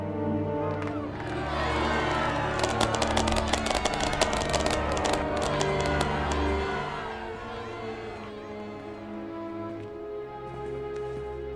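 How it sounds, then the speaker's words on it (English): A large crowd in Star Wars: The Old Republic cheers and whoops with bursts of clapping and crackling pops, swelling loud in the middle then fading, over a steady musical drone. "How about a round of applause?"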